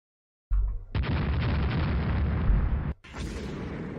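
A torpedo strike on a cruiser in the naval game Rule the Waves: a sudden loud roaring explosion that rumbles steadily for a couple of seconds, breaks off briefly, then continues as a fainter rush.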